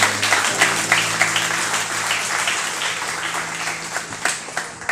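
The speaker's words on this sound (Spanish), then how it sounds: "¿Alguien le puede dar un aplauso fuerte al Señor Jesús?" A church congregation applauds steadily for the Lord, a dense wash of many hands clapping at close range with a faint sustained tone running beneath.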